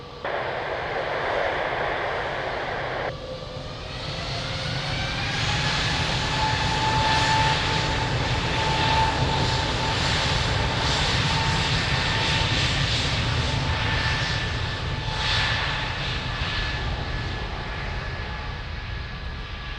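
A jet airliner takes off from runway 02 at Lisbon Airport, a loud sustained engine roar with rising whine tones building steadily and holding strong throughout, close and continuous.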